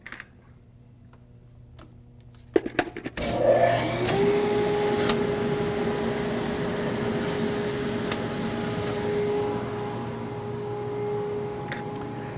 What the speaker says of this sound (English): So I'm going to go ahead and start that up, because there's kind of a little pre-flight thing we're going to do with the blower running.